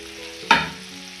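Green chilli dropped into a hot pan of oil while making carrot peas fried rice, a single sharp sizzling burst that flares loudly and then fades quickly over a faint background hiss.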